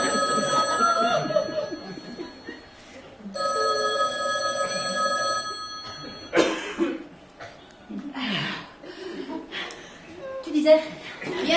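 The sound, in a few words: telephone ringing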